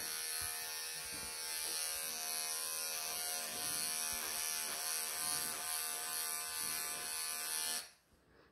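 Electric clippers buzz steadily as they shave the matted belly fur of a Persian cat, a close, even whine with slight wavering before cutting off abruptly near the end.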